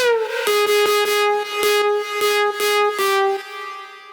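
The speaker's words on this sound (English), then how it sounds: "with the compressor on and with these settings, it brings up the reverb" A bright, buzzy synth through a compressor that brings up its reverb plays a repeated note with rhythmic pulses, held loud and even, then a short reverberant tail fades out at the end.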